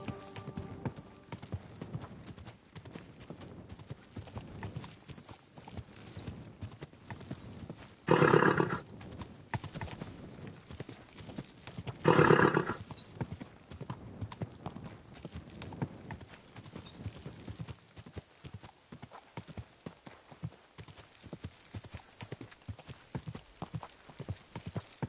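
Horse hooves clip-clop steadily in Kingdom Come Deliverance 2, with two short loud neighs or snorts standing out over the continuous trotting, close and fairly loud throughout.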